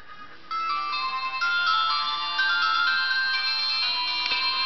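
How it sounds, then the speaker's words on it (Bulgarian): A HiPhone 4 replica dual-SIM mobile phone with TV plays its startup tone: a bright electronic melody of steady, overlapping notes ringing for several seconds, clear and alone. "Сега ще включим и телефона."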